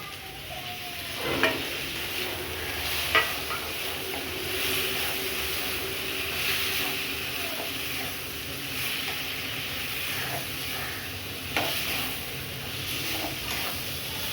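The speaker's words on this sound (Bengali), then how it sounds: "এবার চিংড়ি মাছটা ঢেলে দেবো।" Prawns poured into a pan and frying for a home-cooked Bengali prawn and potato dish, a steady close sizzle with a few sharp clinks of stirring early on and again near the end.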